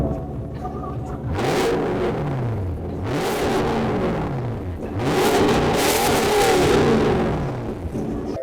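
A Toyota LC200 fitted with an HKS exhaust revs loudly at close range in three rising-and-falling bursts, the last held longest, its deep exhaust note dominating with no talk over it.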